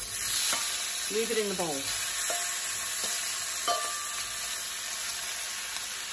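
Tofu for pad see ew sizzling and stirred in a hot pan, a steady close frying hiss with occasional scraping, while a voice speaks briefly over it.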